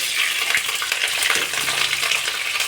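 Potatoes for chicken kosha fry lightly in hot oil, giving a steady, close broadband sizzle across the whole stretch, with a few faint clinks of a utensil against the pan.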